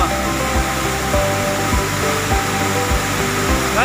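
Ambon Falls, a waterfall whose small streams of water fall onto leaves and rocks, pours in a dense, steady rush of spray that stays loud and close throughout, with no voices.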